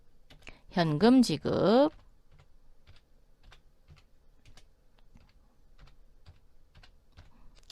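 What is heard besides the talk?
typing on a computer keyboard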